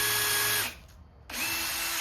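A power drill bores down through the rung of a plastic porch chair, running in two close, steady whining bursts separated by a short pause.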